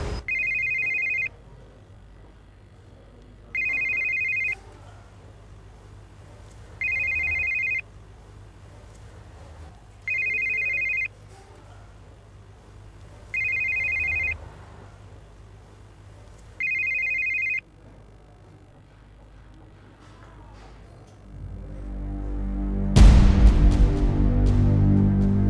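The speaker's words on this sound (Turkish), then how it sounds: "Hadi ya, biri açsın şu telefonu." A telephone bell rings in six evenly spaced, identical bursts, loud and alone, before a sudden rumbling noise swells in at the end.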